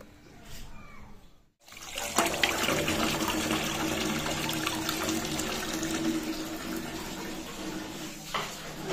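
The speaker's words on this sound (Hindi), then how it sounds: "अब मुझे दोबारा धो के लाने पड़ेंगे प्याज" Tap water running steadily and fairly close while onions are rinsed again, a continuous broad wash that begins abruptly after a brief silence and carries on alone.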